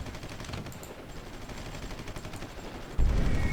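Bombing run in the Supreme Ruler Ultimate Cold War strategy game: a steady rattling barrage of distant gunfire-like blasts, rising into a louder, heavier burst near the end.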